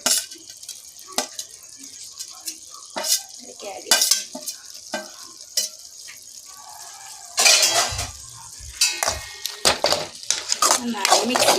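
A prawn roast is stirred in a pan, with scattered metal scrapes and clinks of a spoon against the pan over a faint sizzle, and a denser burst of stirring toward the end.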